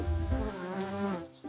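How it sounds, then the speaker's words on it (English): A bee buzzes close by in a short, steady tonal drone that wavers in pitch and breaks off briefly near the end. "It's a bee."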